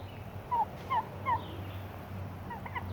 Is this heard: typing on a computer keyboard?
no